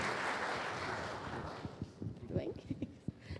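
A seated forum audience in Portuguese-speaking Brazil claps as a speaker is called to the stage: a dense wash of applause fills the first second and a half, then thins out and fades beneath a voice talking.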